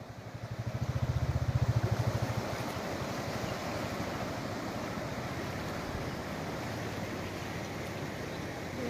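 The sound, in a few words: flooded Bhima river flowing full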